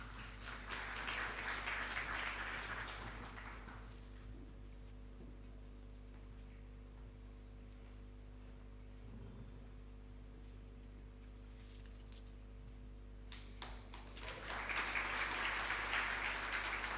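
An audience at an antimicrobial resistance awareness week event applauding an essay winner from Kenyatta University, a burst of clapping that fades to near silence and returns near the end, over a steady low hum.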